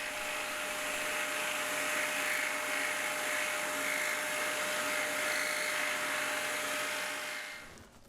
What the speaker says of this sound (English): I set the saw to that angle, inserted the blade into the entry hole, and cut clockwise around the leaf.